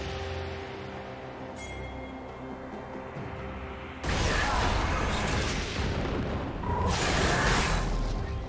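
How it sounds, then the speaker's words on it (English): A turret being destroyed in League of Legends during a Grandmaster-level Kha'Zix versus Talon jungle match, heard as a loud, sustained explosive crash that breaks in partway through and stays heavy, with a second surge near the end. "Blue team's turret has been destroyed."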